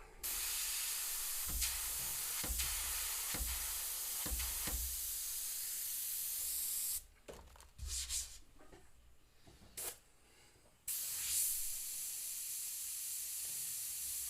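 An airbrush sprays paint in a steady, fairly loud hiss for about seven seconds, cuts out into near silence with a few brief bursts, then resumes spraying.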